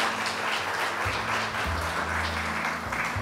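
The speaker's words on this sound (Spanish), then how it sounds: "Voy a pedir un aplauso para nuestros exponentes" An audience at a seminar on sustainable cities claps for the panel speakers, a dense, continuous wash of applause from many hands, fairly loud and sustained without pause.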